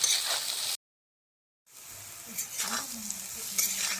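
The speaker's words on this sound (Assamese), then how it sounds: "মছলাখিনি দিয়াৰ পিছত অকণমান টাইম ভাজি লৈছোঁ।" Spices and jackfruit sizzle steadily in a hot pan, with occasional stirring scrapes; the sizzle cuts out briefly, then resumes.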